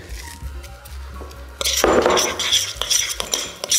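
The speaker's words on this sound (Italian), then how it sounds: "Mescoliamo il tutto bene." Sweet potato fritter batter with raw spring onions and a pinch of salt is stirred in a bowl, a utensil scraping and clinking against the dish, quiet at first and then louder and more vigorous in the second half.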